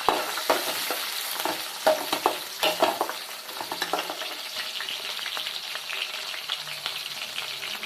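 Onions sautéing in a pan for a fish curry produce a steady, moderate sizzle broken by scattered scraping and stirring clicks, close by, with no speech.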